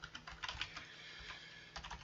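Fingers type quickly on a computer keyboard, a steady run of light, close key clicks with a few louder taps, alone with no talking.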